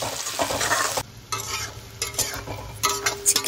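Chicken being stir-fried with garam masala and chicken masala for a desi-style curry, a steady close sizzle with scraping stirs and clatter, louder bursts toward the end, no talking.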